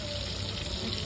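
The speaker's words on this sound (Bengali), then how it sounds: "এবার একটু ধুয়ে ফেলবো।" Tap water runs steadily into a sink while freshly cut pumpkin and other vegetables are rinsed in a home kitchen, a soft continuous splashing hiss throughout.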